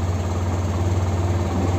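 A BS6 motorcycle engine with a misfiring problem and low fuel idles steadily, a low, even rumble with constant vibration and no change in pace.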